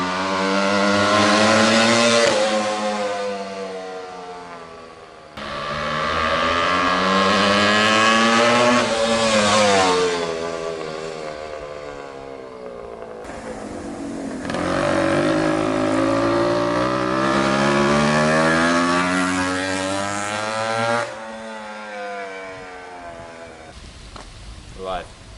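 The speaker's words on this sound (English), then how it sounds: "Ken riding up on the Bultaco TSS Replica" A 1962 Bultaco TSS Replica motorcycle rides up, its two-stroke engine revving loudly in repeated rising and falling bursts close by, with brief pauses between throttle openings.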